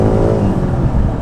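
A BMW M car engine revs hard after the M2 drive mode button is pressed, a loud, close, sustained deep roar with a slight rise in pitch.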